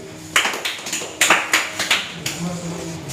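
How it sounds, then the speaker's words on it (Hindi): Sparse claps from a small group of students at a class 10 quiz results announcement, a handful of sharp, uneven bursts close by with a voice talking in the background. "ताली बजाइए"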